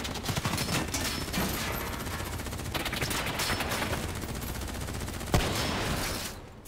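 Gunfire in Call of Duty Black Ops 3, dense continuous automatic bursts and rattling volleys throughout, with one sharper loud crack near the end before it cuts off.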